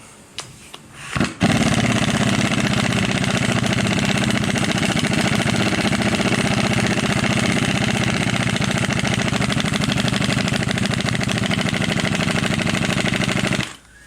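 An air-powered tool drives a bolt through threads while installing a roll center correction kit on a Nissan 240SX coupe. After a few faint clicks, it runs as one loud, steady, unbroken whir for about twelve seconds, then cuts off.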